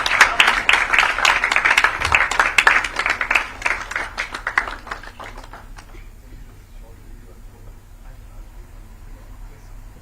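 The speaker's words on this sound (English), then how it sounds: "Please join me in giving a huge round of applause to the cricketing legend" An audience at a live event applauds a cricketing legend with dense, crackling clapping that is loud at first, then thins out and dies away after about six seconds, leaving quiet room tone.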